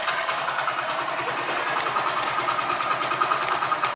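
A Hero Honda Splendor Plus motorcycle engine idles in neutral with a steady, rapid ticking putter, close and even throughout.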